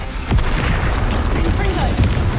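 A Confringo fire spell explodes in Hogwarts Legacy, a loud, close boom that blasts in early and rumbles through the rest of the moment amid dense game noise.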